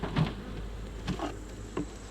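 Honey bees buzzing around an opened hive during honey harvest, a faint, steady insect hum with a few brief nearer passes, no talking.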